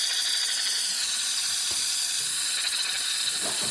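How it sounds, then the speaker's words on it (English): A single-boiler Rancilio espresso machine, freshly serviced, hisses loudly and continuously as it builds steam pressure, with faint ticks and gurgles running underneath. "Okay, now we're going to have some pressure in there. You can see some steam."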